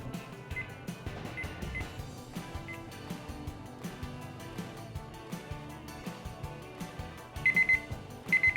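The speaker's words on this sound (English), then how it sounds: "That's my timer." A kitchen timer set while cooking skirt steak tacos on a Weber grill goes off near the end in short bursts of high, rapid electronic beeps over a busy musical background.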